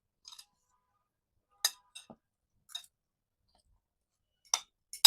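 Chola makha, spiced chickpeas, being mixed in a bowl: a few sparse, quiet clinks and taps of a spoon against the dish, separated by stretches of near silence.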